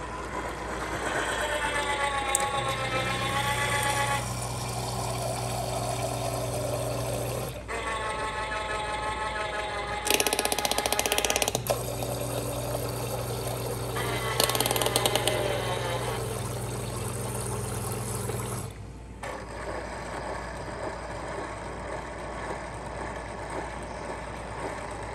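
Brastemp BBlend drink machine preparing a chocolate drink, a steady loud motor whir and pump hum with tonal whine, interrupted by short louder bursts of churning and gurgling, then settling back to a quieter hum.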